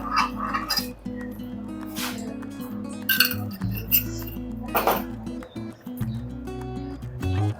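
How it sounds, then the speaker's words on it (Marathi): Pan set on a stove over medium heat with ghee spooned in for khichdi, close metallic clinks and clatters of spoon against pan scattered over a low steady hum. "त्यासाठी मी मध्यम आचेवरती हा पॅन ठेवलेला आहे आणि हे पॅन तापलं की आपण त्याच्यामध्ये एक चमचावर तूप टाकणार आहोत"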